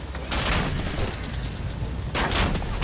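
Dense, sustained bursts of automatic gunfire from a multiplayer shooter video game, loud and continuous with a brief lull, then another heavy volley near the end.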